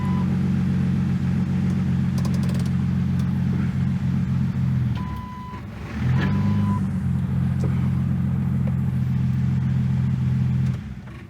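A Jeep TJ engine runs steadily in gear with a low, humming drone while the parking brake is tested. The drone dips briefly near the middle, then resumes and cuts off just before the end.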